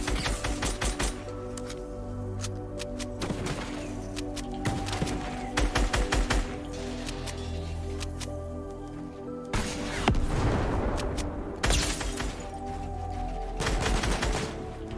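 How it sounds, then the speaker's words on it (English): Gunshots in the Fortnite video game, dense volleys of rapid rifle fire and sharp single cracks in loud clusters, with a few heavier booming impacts mixed in. "As they're fighting, I try to get some shots off on them to weaken their shields."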